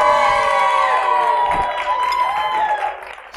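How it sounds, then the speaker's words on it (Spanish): Lively cheering and applause for a podcast guest called Magic Juan, loud voices whooping and shouting over clapping, bright tonal shouts sliding up and down before fading near the end. "Señores, aplausos para Magic Juan."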